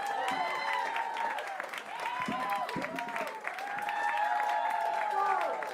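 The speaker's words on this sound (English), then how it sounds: "Huge round of applause for Leo Nguyen, everybody" Comedy festival crowd in Boston applauds and cheers a comedian taking the stage, a dense, loud, steady wash of clapping with whoops and shouted voices running throughout.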